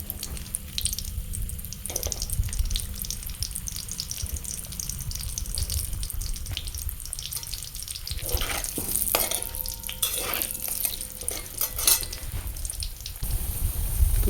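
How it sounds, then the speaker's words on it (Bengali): Potatoes frying in hot oil for a chicken kosha, a steady broadband sizzle that runs throughout with occasional stirring clatter and water-like bursts, close and fairly loud, no voices. "প্রথমে আলুগুলো দিয়ে দেবো, হালকা লাল করে ভেজে নিতে হবে"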